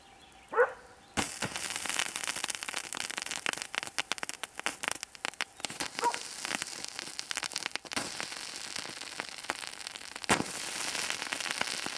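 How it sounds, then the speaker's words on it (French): Rapid crackling pops and sharp bursts from manganese heptoxide reacting violently with ethanol, erratic and close, continuing for several seconds after a brief initial snap. "l'heptoxyde de manganèse réagit violemment et produit même un bruit d'explosion"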